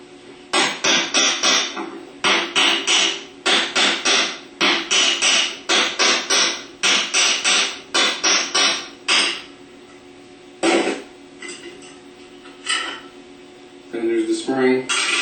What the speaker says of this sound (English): we're going to take a hammer and tap